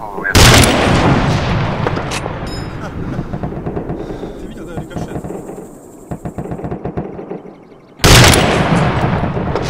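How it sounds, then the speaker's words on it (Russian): Loud gunfire in a video game comes in bursts: a heavy opening volley, a run of rapid shots in the middle, then another loud burst near the end, with game effects in between. "Я тебе говорю, в стену попробуй выстрелить,"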